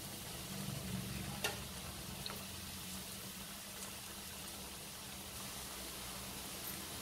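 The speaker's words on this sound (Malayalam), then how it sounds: "അപ്പോൾ നമുക്ക് ഈ രണ്ടെണ്ണം ഇതിനകത്തിട്ട് വറുത്തെടുക്കാം" Continuous bubbling sizzle of potato and semolina snacks deep-frying in hot oil, close by, with a couple of faint clinks early on.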